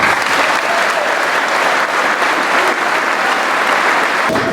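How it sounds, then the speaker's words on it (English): Loud, sustained crowd applause honoring Pearl Harbor veterans at a 75th anniversary remembrance ceremony, dense and continuous clapping filling the whole stretch. "please help me welcome again these patriots with a grateful nation's round of"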